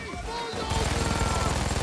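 Payday 2 gunfire cuts in as a rapid automatic burst of evenly spaced shots, loud and close, after a brief stretch of game noise.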